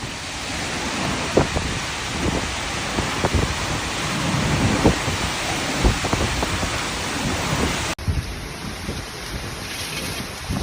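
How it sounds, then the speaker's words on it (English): Heavy rain pours steadily during a powerful thunderstorm over the Paris region, with gusting wind and scattered low thunder rumbles and cracks, loud and continuous with a sudden shift in tone near the end. "Powerful thunderstorms swept across the Paris region, bringing wind gusts up to 70 miles per hour"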